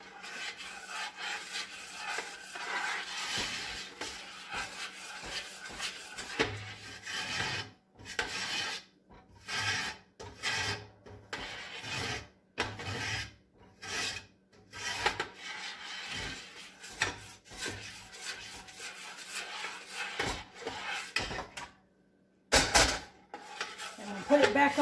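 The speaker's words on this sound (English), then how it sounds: "Let's kind of get that stirred up." A date roll candy mixture being stirred in a pot on a warm burner, giving repeated scraping, rasping strokes of utensil against pot in uneven bursts with short pauses, close and moderately loud, with no talking.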